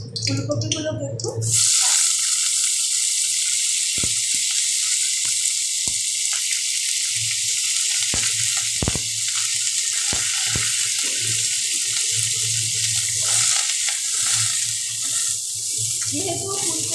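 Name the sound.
cauliflower frying in oil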